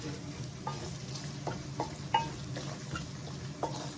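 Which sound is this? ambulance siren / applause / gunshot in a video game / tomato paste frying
tomato paste frying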